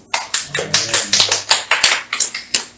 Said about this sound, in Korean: 모든 것 아시는 우리 주님께 영광의 박수 올려드립니다